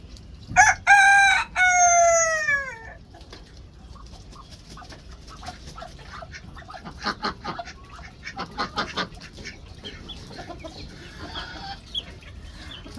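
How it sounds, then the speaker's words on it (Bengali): A rooster crows loudly twice near the start, followed by softer clucking and scattered chicken calls in the background. "ওই যে কতগুলি হাঁস আছে, মুরগি আছে"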